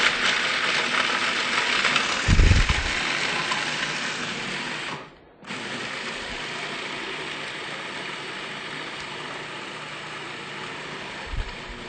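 Food processor grinding nuts for a peach cobbler at a cooking demonstration, a steady loud whirring motor drone that cuts out briefly midway and then resumes, running alone without talk.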